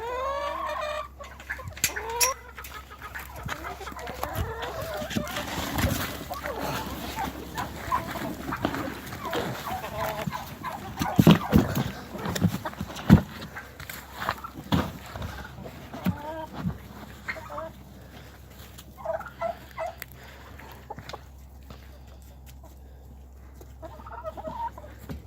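Chickens clucking and squawking close by while being fed spent grain, a busy flock of fowl calling on and off throughout, with occasional talk and rustling.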